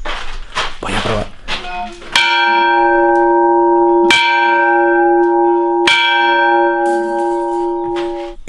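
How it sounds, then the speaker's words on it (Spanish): Church bells on the Camino de Santiago between O Cebreiro and Triacastela ring out loudly and close, three strong strikes each leaving a long resonant hum, after a moment of rustling and movement. "Tiene campanas, así que sí que tiene que funcionar. Voy a probar."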